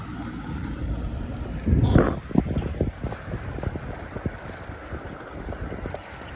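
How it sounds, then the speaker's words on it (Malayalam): Vehicles pass along a road in Mariani, Assam, while two cyclists ride toward Nagaland: one loud whoosh of a car going by close, then steady traffic rumble with wind buffeting the microphone. "വണ്ടിയൊക്കെ പോകുന്നുണ്ട്"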